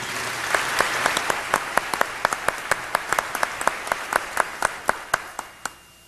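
An audience applauds George Phoenix, publisher of Texas Weekly, at a talk on Dallas media coverage of 1963: a steady round of clapping with sharp individual claps standing out, swelling briefly and then tapering off at the end.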